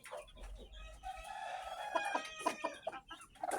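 Backyard chickens and a rooster cluck and murmur nearby, a mix of soft, rising calls and short clucks that fill a quiet yard.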